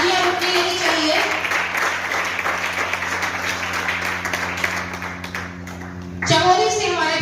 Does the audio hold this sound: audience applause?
yes